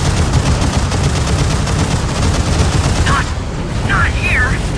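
Rapid gunfire from the shooter video game CrossFire rattles in a dense, continuous burst throughout, close and loud, with brief synthetic warbling tones near the end.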